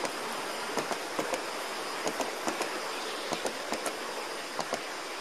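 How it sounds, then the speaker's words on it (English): Model passenger train rolling under a layout bridge, a steady hiss of running wheels marked by a regular clicking of rail joints, continuous and close throughout. "Here's that passenger train again going underneath this"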